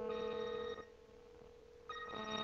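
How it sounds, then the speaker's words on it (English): A cell phone rings after being dialed, a faint electronic ringtone heard as two bursts separated by a brief pause, with no talking. "I'm going to just dial my cell phone number."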